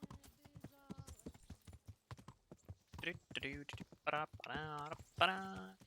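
Rhythmic clip-clop of horse hooves trotting in the video game Kingdom Come: Deliverance, with a few soft taps and bursts of voice overlapping in the second half.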